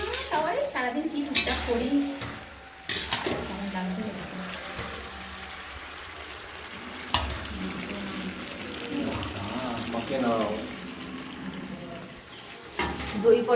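Pots, pans and utensils clatter and scrape in a home kitchen while a large batch of food cooks, with stirring, knocks and running water in irregular bursts, near, and voices talking at times.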